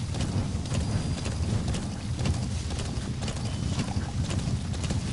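A horse gallops in the video game Metal Gear Solid 5, its hooves beating in a steady rapid rhythm, close and fairly loud, alone with no talk over it.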